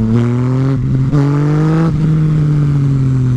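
A Yamaha MT-09 motorcycle engine revs hard up close, its pitch climbing steadily, dropping briefly at each gear change, then climbing again.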